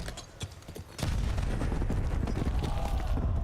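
Grenade explosions in a professional Call of Duty esports match: a sharp blast followed by a dense, sustained rumble of explosions and gunfire, with a caster's voice running underneath.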